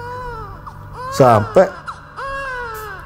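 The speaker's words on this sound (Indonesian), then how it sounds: "mencekam tuh suara bayinya itu nggak berhenti nangis" A baby's cry used as a sound effect in a horror story about climbing Mount Lawu in the 2000s: a few short, strained wails rise over someone narrating, with a calmer voice continuing around them.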